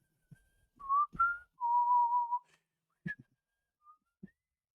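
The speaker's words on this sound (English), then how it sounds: "whistling something that sometimes pings the algorithm" A person whistles a short tune nearby: a few quick rising notes, one longer held tone, then brief scattered chirps with pauses between.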